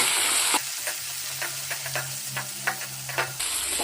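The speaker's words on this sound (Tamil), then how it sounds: "கூடவே ஒரு கைப்பிடி சின்ன வெங்காயம் சேர்த்துக்கலாம் அது கூட ஒரு பச்சை மிளகாயை இந்த மாதிரி கட் பண்ணிட்டு சேர்த்துக்கலாம்" Shallots, green chili and curry leaves fry in a pan with loud steady sizzling, broken by scattered crackles and pops, and the hiss dips briefly in the middle.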